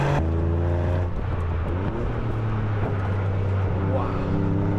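A Toyota GR Yaris three-cylinder engine braking hard into a corner then accelerating out, its rising engine note climbing in pitch under a voice talking throughout.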